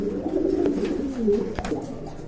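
American Lakha pigeons coo in low, soft, throaty rolls, one call running into the next at close range with no voices over them.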